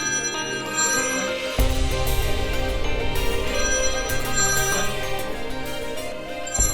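A mobile phone rings with a loud, continuous melodic ringtone that plays on without pause, with no one talking over it.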